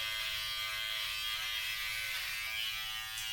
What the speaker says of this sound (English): I actually prefer to use a foil shaver for, you know, under my chin area